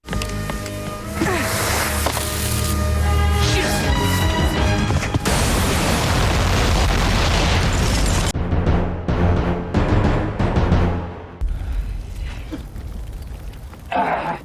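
A huge building explosion from the film Hooded Angels fills the scene with a loud, sustained roar and crashing debris layered over a musical score, later thinning into scattered rumbling bursts.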